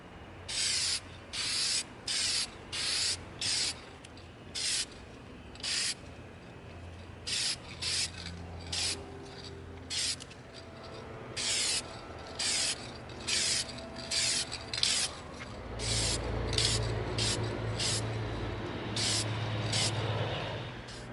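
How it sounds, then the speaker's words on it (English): A spray can of matte finish coating is applied to an EVA foam prop gun in repeated short, hissing bursts, close and fairly loud, followed by a longer continuous spray. "now we're going to come in with our matte finish coating so it's not so shiny."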